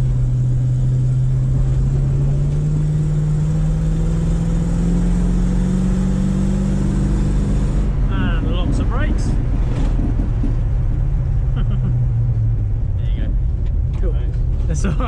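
A 1968 Ford Mustang's engine roars at drift limits, a loud, sustained drone that climbs in pitch as the throttle is squeezed and then shifts, with a person talking over it.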